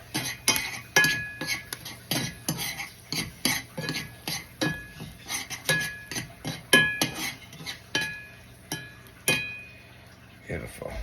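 Burger ingredients are mixed in a bowl with a utensil, giving a steady run of close clinks and scrapes against the bowl across the whole stretch, with no talk over them.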